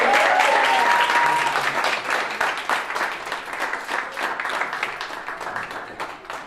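Audience applause for student performers at a school board of education meeting, a dense, sustained round of clapping that starts loud and gradually thins and tapers over several seconds.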